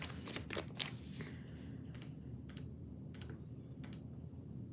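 Sharp computer mouse clicks, about four distinct, evenly spaced, against a soft steady background hiss, with a quick burst of clicks at the start.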